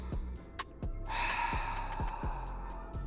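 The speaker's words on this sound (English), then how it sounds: "Inhale, breathe in." Slow, deep breathing during a psoas and hip release workout: a long, airy breath drawn in and let out, close and soft, with faint light taps in the background and no talking.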